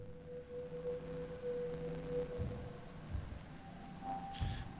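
Thunderstorm in the video game I Was a Teenage Exocolonist, with lightning over the hills behind a colony at night: faint, steady rain with soft low rumbles under a quiet, sustained musical tone.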